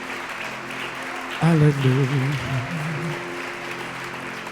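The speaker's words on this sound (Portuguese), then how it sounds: "Agora pode adorá-lo com as suas palmas" Congregation clapping in worship at a Portuguese-speaking church service, a faint steady patter of hands beneath a voice calling out, the clapping continuing softly throughout.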